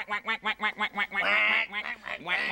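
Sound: duck quacking

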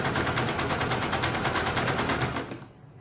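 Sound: sewing machine stitching a blouse

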